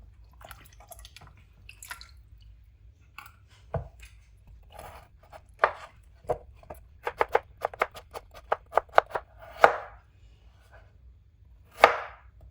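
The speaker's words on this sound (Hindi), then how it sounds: "इसके इसलिए छोटे पीस किए हैं कि बीच में ना घुल जाएगा" Vegetables for a lentil and rice meal are chopped into small pieces on a board, with close, crisp knife strikes that come in irregular bursts and quicken into short rapid runs near the end, with no voices.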